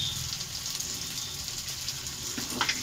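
Turmeric and salt masala sautés in a pan for a Bengali prawn fritter curry, giving a soft, steady sizzle up close with a brief stir-like scrape near the end.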